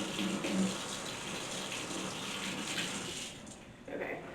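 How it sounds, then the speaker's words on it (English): Running tap water splashes over a hand being rinsed mid-cooking in a home kitchen while preparing beef stew, a steady close wash with a brief stronger gush near the end. "Let me rinse this hand."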